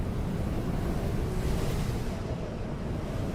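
Strong, steady wind of a sandstorm in the video game Dune: Awakening, a broad continuous rushing roar heavy in the low end, unbroken and fairly quiet.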